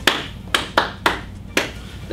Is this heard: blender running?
no